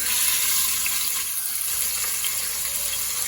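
Oxtail pieces browning in hot oil, a loud, dense, continuous sizzle filling the whole stretch with no talk.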